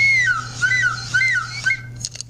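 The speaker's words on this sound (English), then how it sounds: "Whistles are closed pipes." A whistle, used to demonstrate a closed pipe, gives a series of short warbling, sliding high tones, each rising and dipping in pitch, close and clear over a faint low hum, then stops abruptly.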